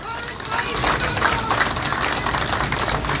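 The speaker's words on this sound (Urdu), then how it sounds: "اتنے جوش اور ولولے کے بعد بھی 5 آدمیوں نے تالیاں بجائیں" Clapping at an MQM Pakistan political rally in Garden East, Karachi: a fairly thin, steady patter of hands against background crowd murmur, lasting about three seconds.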